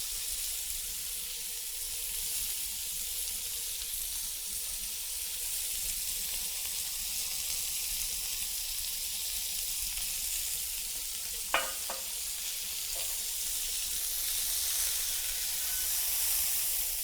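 Meat browns in a hot pan on both sides, giving a steady, even sizzle that fills the whole stretch at moderate level, with a short clink or scrape partway through and no talking.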